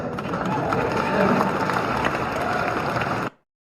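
Dense roar of a crowd at a live political event, steady and loud throughout before cutting off abruptly.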